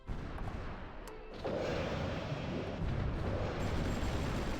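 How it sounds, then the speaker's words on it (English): Naval bombardment in the strategy game Supreme Ruler Ultimate, heard as a dense, rumbling roar of distant blasts, with a heavier wave of explosions partway through that keeps the din going. "We are doing some bombardments down that way, that's good."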